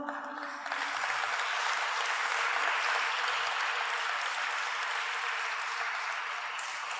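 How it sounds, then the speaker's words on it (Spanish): Church congregation applause welcoming a family to the front, a dense, steady roar of clapping that swells after a brief lead-in and holds evenly for about six seconds. "vamos a recibirlos con un aplauso"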